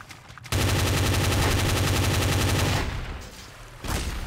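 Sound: shotgun gunfire in video game Garry's Mod Trouble in Terrorist Town

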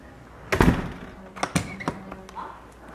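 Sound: house door being opened

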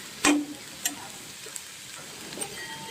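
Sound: onion and chilli frying in a kadhai

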